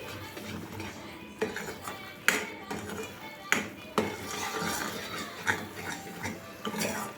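Sweet mixture of ghee residue, sugar and grated coconut being stirred in a pan, with repeated scraping clinks of a spoon against metal at an irregular, unhurried pace, close by.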